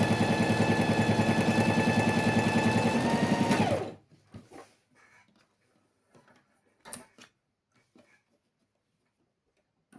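Sewing machine stitching fabric for a small box with backstitching at the seam ends, running in a fast, even mechanical whir for about four seconds, then stopping, followed by faint clicks and handling.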